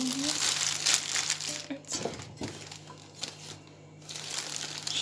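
Plastic packaging crinkles and rustles as a Korkmaz Rando stainless steel cookware set and teapot set is unboxed one-handed, with steady nearby crackling under a speaking voice.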